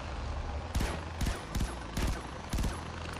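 Enemy gunfire in Far Cry 4 cracks out in five or six loud, evenly spaced shots over a steady low rumble of ambient game noise.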